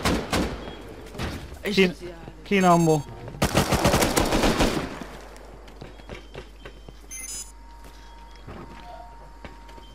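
Rapid gunfire in the survival game Rust crackles in close, sharp bursts and an automatic volley during a base defense, then fades to scattered distant shots while players talk in Hungarian.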